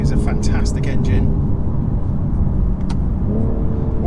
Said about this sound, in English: B58 is a fantastic engine.